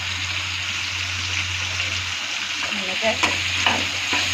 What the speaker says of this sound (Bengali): আমি এখন সব ভালো করে মিক্স করে ভালো করে ভাজা ভাজা করে নিচ্ছি।